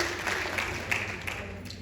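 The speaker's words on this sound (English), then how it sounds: "Give her another round of applause as she walks to the stage" Audience applause, steady and moderately distant, as a women's rights advocate from Latin America walks to the stage; a broad, even wash of clapping with no speech over it.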